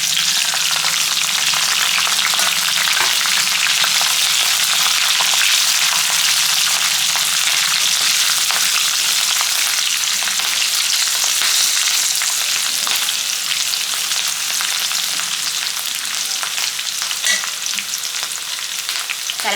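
Curry leaves and green chilli pieces fry steadily in hot oil in a pan with garlic for ajwain rice, a loud dense crackling sizzle that holds evenly throughout with no voices.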